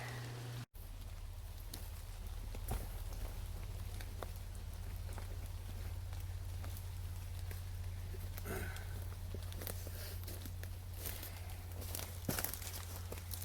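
Light rain falls outdoors in a wooded spot, a faint, steady soft patter with a low constant hum beneath and occasional small taps and rustles, with no speech.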